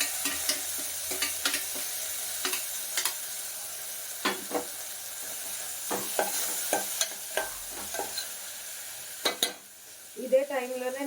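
Tomatoes and onions fry in a pan for potato curry, sizzling steadily close by while a spoon scrapes and clicks through repeated stirring strokes, ending in a brief quieter bubbling.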